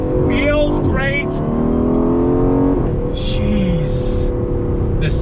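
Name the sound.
2019 Aston Martin Vantage exhaust while driving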